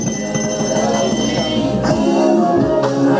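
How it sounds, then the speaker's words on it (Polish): A bell rings as the start signal for a run at a horse-drawn carriage driving competition, with steady ringing tones over a busy outdoor background for about three seconds. "Dajemy sygnał do startu."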